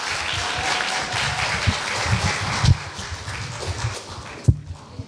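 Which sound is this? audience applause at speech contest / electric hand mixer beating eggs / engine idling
audience applause at speech contest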